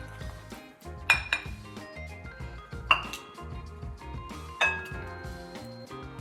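A cup clinks and rattles among dishes in a home kitchen, with several sharp, ringing glassy and ceramic knocks standing out over softer clatter of cutlery and crockery, close and alone.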